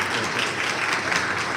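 Applause from a live theatre audience, steady dense clapping filling the room without a break, fairly loud and close.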